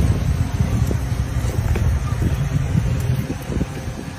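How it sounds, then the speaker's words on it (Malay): Strong outdoor wind buffets the microphone at a roadside fruit stall, a heavy continuous low rumble filling the whole stretch with no gaps. "Sorry bang, angin sikit bang."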